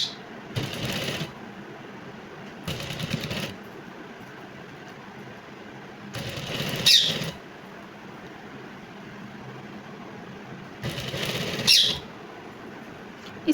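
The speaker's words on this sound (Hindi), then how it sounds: "अब देखें ये पट्टी पूरी फोल्ड करते जाना है और सिलाई लगाते जाना है।" A sewing machine stitches a folded back-neck strip in short bursts, four runs of rapid mechanical whirring separated by quiet pauses, close and fairly soft.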